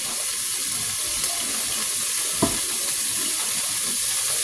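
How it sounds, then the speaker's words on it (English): A steady bubbling hiss of water boiling in a pot for pasta fills the clip at close range, with a faint knock or clink partway through. "I got my water boiling right here for my pasta."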